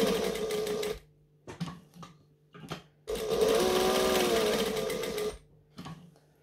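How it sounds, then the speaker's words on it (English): Sewing machine stitching fabric panels placed right sides together, heard in two close bursts of rapid mechanical whirring, the first about a second long and the second several seconds, with brief handling noises in the pause between. "So, we now want to stitch around."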